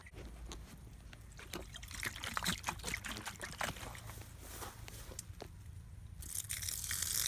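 Water rushes and trickles from the lower radiator hose of a Mercedes 300SD during a coolant flush, a steady splashing pour scattered with irregular drips, faint and close.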